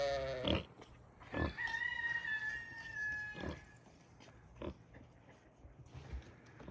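Pigs on a small 5-acre farm give several short grunts and squeals with a drawn-out tonal squeal in between, fairly close, with light farmyard background noise.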